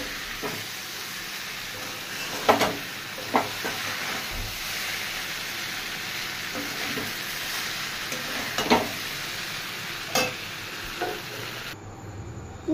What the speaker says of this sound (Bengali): এবার চাউমিনটা দিয়ে নাড়াচাড়া করবো।